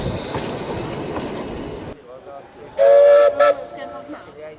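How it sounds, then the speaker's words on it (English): Welsh Pony, a restored George England narrow gauge steam locomotive on the Ffestiniog and Welsh Highland Railways, passes with rumbling wheels, then gives a loud, sustained whistle blast followed by a shorter toot. "here's our fourth and final George England locomotive. This is Welsh Pony,"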